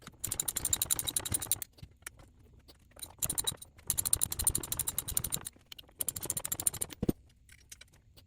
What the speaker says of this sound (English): I'm going to be using the same spring compressor tool that we use to remove the springs.